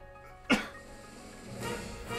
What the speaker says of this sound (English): I'm about to sneeze, so I'm sorry